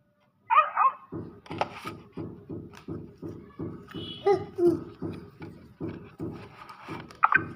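A toy gives a synthetic dog bark, followed by a steady mechanical rhythmic pulsing, with a few squeaky yips scattered throughout.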